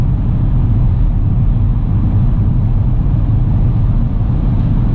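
A Lada Xray with an AMT automated gearbox accelerating on the road to overtake a truck, giving a loud, steady low engine and road rumble that holds evenly throughout with no talking.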